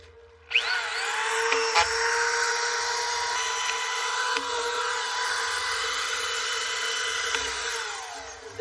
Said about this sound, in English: Shoot it in with the drywall gun.